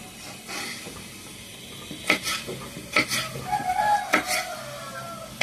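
A knife chops a ripe yellow cucumber (dosakaya) into pieces for a Telugu chutney in a home kitchen: a few separate, sharp cuts against a board, spaced irregularly over a soft background hiss, with no talking.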